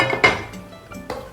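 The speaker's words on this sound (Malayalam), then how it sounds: "നമുക്ക് അടുപ്പ് കത്തിച്ച് ഫ്രൈയിങ് പാൻ വെച്ച്" A frying pan is set down on a stove burner while chicken is being fried, giving a sharp metallic clank followed by a softer clink a moment later. The sounds are close and clear, and nobody speaks.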